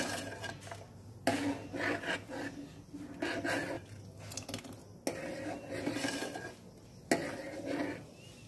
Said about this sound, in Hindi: साबूदाने डाल के आपको इसको चलाते रहना है कंटिन्यूस